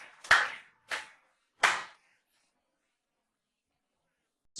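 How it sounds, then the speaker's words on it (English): A parent claps hands three separate times, sharp close bursts spaced about half a second apart, followed by silence. "Parent claps proudly."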